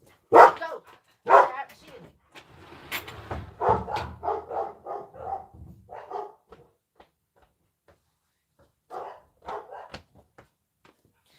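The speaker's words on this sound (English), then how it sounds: "you have to put up with the dogs" Several dogs bark in loose bursts close by in a vacuum and sewing shop, with louder yaps at the start and scattered barks later, mixed with some indistinct voices.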